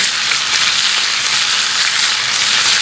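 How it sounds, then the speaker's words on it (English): Steady, bright sizzling of bell peppers frying in a hot pan, a continuous crackling hiss with no talking. "I want to hear that sizzle."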